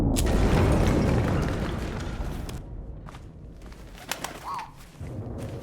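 A bird coos softly a few times in a wartime setting from the game 11-11: Memories Retold, faint and brief after a loud rumbling boom fades away.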